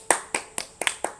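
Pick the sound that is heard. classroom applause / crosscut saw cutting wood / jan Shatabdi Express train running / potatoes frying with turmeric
classroom applause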